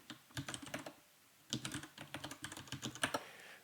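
Quick bursts of keystrokes on a computer keyboard while typing into an Excel spreadsheet, close and crisp, in two rapid clusters separated by a short pause.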